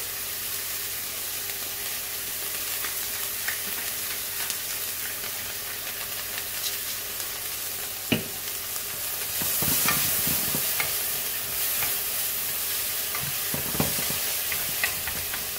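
Meat browning in a hot pan sizzles steadily while a utensil breaks it up, with repeated sharp scraping and stirring knocks standing out over the continuous frying hiss.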